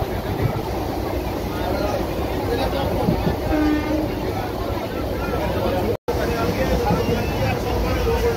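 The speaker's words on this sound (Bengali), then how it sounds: "সামনে আমার লোকাল স্টেশন দেখা যাচ্ছে, এখান থেকে ট্রেন ধরে যাব সাঁতরাগাছি" A local train rumbles at a station on the line toward Santragachi during hot weather, a steady loud rolling drone with people talking over it.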